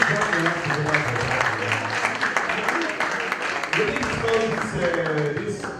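Scattered applause from an audience at a Nigerian AlphaGPT investment summit, a steady crackle of clapping running through the whole stretch with voices talking over it.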